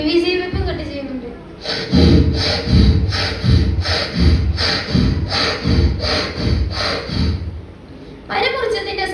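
A voice imitates a plumber cutting PVC pipe with a hand saw, giving about ten rhythmic back-and-forth rasping strokes, loud and close, with brief speech before and after.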